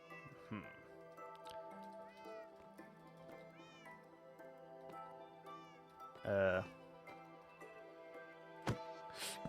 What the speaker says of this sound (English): I didn't mean to whack you, kitty.